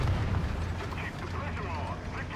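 A forward-launching smoke grenade fires from a tank in War Thunder, with a loud, dense rumbling blast and a roaring, hissing discharge that fills the whole moment and holds steady without a clean break.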